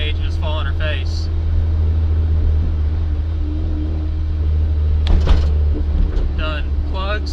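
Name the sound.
turbocharged 1994 Mazda Miata engine misfiring and stumbling under throttle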